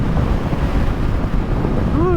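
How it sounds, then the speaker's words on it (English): Strong wind roars and buffets the microphone, a loud, steady rush with no pauses, while riding a motorcycle at Big Bear. "Ooh, it's getting windy."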